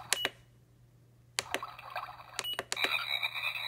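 A mini aquarium alarm clock plays its electronic frog sound effect: a few sharp, bright croaking chirps in short bursts close by, after a quiet pause, over a faint steady hum.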